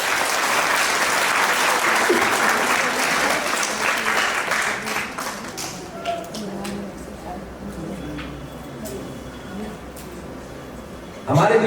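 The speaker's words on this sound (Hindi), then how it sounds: "जोरदार तालियां।" Loud applause from the audience at a stage event welcoming the chief guest, dense clapping that holds strong for several seconds and then thins out as it fades.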